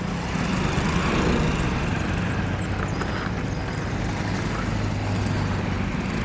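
A two-wheeler motorcycle with a bike trolley attachment runs its engine while reversing outdoors, a loud continuous rumbling drone with a steady low hum, close by and unbroken throughout.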